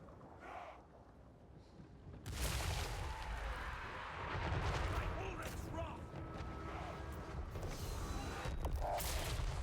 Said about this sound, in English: that's a Doom rocket. Just took out one of my artillery pieces